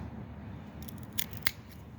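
Pruning shears snip through grapevine in an autumn vineyard, two crisp close cuts about a quarter second apart over a quiet outdoor background.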